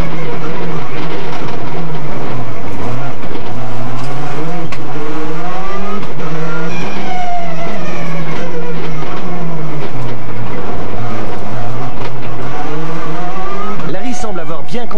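Skoda and Peugeot rally cars race on a stage at the Rallye du Condroz, engines revving hard with tires squealing and skidding through slides. A commentator talks over the loud, close passes.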